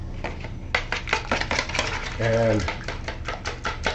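Eggs whisked briskly with a little milk in a plastic bowl, giving a quick, rhythmic clatter of strokes close by, with a brief spoken word partway through.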